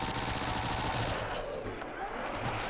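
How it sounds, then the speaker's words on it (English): Rapid automatic gunfire in a Call of Duty Zombies match on the Rust map, a dense, loud stream of shots that fills the clip and eases slightly toward the end. "there is very little recoil when I'm firing the gun"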